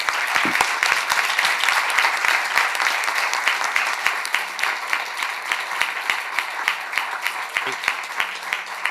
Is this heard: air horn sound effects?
no